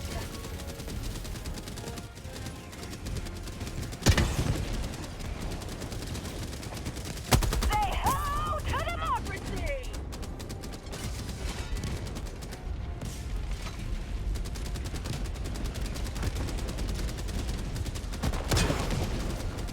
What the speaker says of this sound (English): There's like a command turret just shooting the boy in the back.